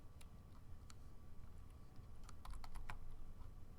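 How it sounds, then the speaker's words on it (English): Fingers type on a computer keyboard while an assignment is entered in a school web app, a faint, quiet run of scattered key clicks that gather into a quicker burst near the end. "And I'm going to type"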